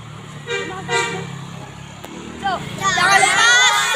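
A bus telolet horn, a newer Basuri-style module, toots a musical melody in short bursts, then plays a warbling run of notes as the bus passes close by, with roadside traffic and a crowd of children in the background.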